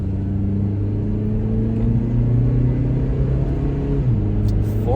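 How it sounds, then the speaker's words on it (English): A 2010 Honda Civic Value Package's small engine hums steadily as the car accelerates on the road, a constant low rumble of engine and road noise with a slight shift in pitch near the end. "So the amount of power that this little engine puts out, not the best."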